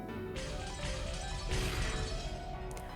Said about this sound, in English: Loud beating sounds, whether they would be called knocking, was unclear, and sound of shattering glass could be heard from all parts of the mansion